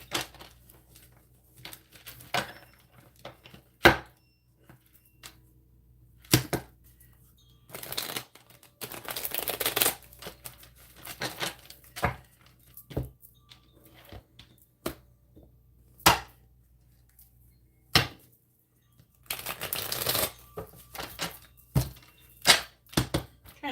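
Tarot cards being shuffled by hand in short, crisp bursts of riffling and slapping, repeated many times with brief pauses between, close and fairly quiet with no talking.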